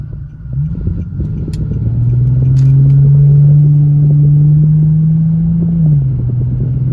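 An Infiniti G37 engine revs up and holds a steady, throaty exhaust drone for several seconds, then eases back down, loud and close.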